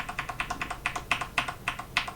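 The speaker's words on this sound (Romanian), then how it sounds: "Apăs pe tasta Windows și uitați ce se întâmplă." Rapid clicks of keys on a Tesoro Durandal Ultimate G1NL backlit mechanical gaming keyboard, about a dozen crisp, close keystrokes in an uneven typing rhythm with no voices.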